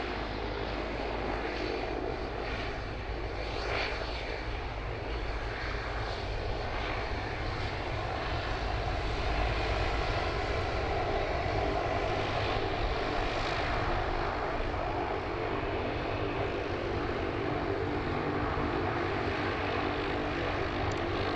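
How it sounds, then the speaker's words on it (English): An American Boeing Dreamliner at Sydney Airport produces a steady, broad engine roar that holds evenly for about twenty seconds, heard from some distance with no voices over it. "Oh, we do have a American Dreamliner over the back there as well."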